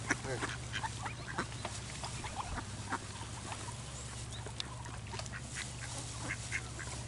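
Ducks at a school pond make soft, scattered quacks and chatter over a steady low hum, faint and somewhat distant.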